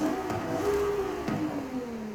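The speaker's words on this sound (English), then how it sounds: "Just a bit of an exhaust change and a bit of an intake sound" A Ferrari 296GTB V6 with upgraded exhaust and intake in Forza Horizon 5 holds a steady engine drone that slowly falls in pitch, with a couple of brief gear-shift blips, close and clear.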